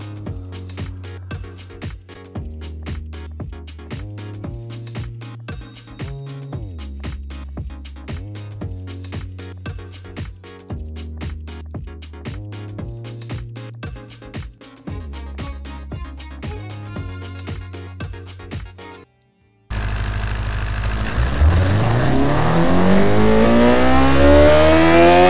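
A four-cylinder engine fitted with a huge turbocharger revs up toward 12,000 RPM, first in choppy stepped bursts, then after a brief cut a loud, steady rising howl fills the end, with no talk.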